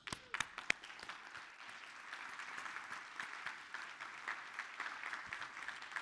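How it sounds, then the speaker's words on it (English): A few sharp individual claps open into steady audience applause at a talk on retaining top talent, moderately quiet and sustained with uneven clapping throughout. "And for that, I give you a round of applause."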